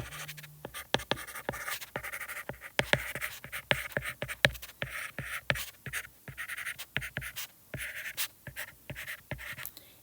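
Pen or pencil writing out a geometry proof statement, a close, busy run of quick scratchy strokes and taps in uneven bursts, with no talking.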